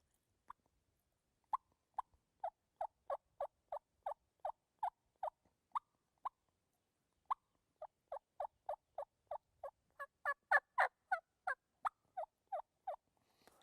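Soft tree yelps on a turkey call, imitating turkeys waking on the roost: short, evenly spaced yelps in several runs, close and clear against near silence, growing a little louder and raspier toward the end.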